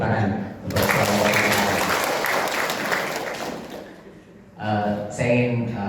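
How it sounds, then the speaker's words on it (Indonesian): A crowd breaks into loud, sustained applause that fades after a few seconds, followed by a short second burst of clapping. "Jadi luar biasa, tepuk tangan untuk semua."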